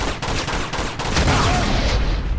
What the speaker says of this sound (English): this gun definitely feels a lot different from the first game